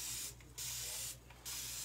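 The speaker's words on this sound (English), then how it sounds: "I kind of like this spray bottle." A sleek, futuristic-looking spray bottle is pumped twice while stenciling and inking a tea towel, each burst giving a loud, airy hiss that lasts about a quarter second, separated by brief pauses.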